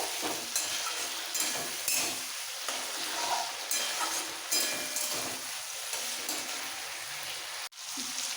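Spices and coriander leaf paste being sautéed in oil for bata fish curry, an even crackling sizzle with repeated stirring scrapes, ending in a brief sharp knock near the close.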